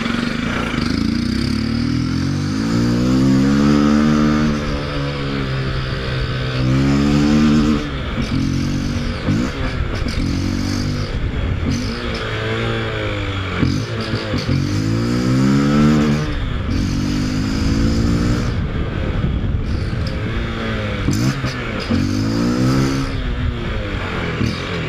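A Honda XRE 300 motorcycle running on alcohol fuel revs hard again and again, each throttle blip climbing and falling in a loud, close, rhythmic series of about six to eight rises.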